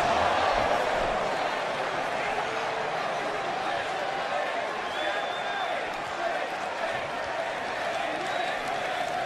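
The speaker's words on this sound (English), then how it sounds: "the crowd keeping count" Roaring wrestling arena crowd during a match, a dense sustained wall of voices that could carry a chanted count, with commentary talk running over it.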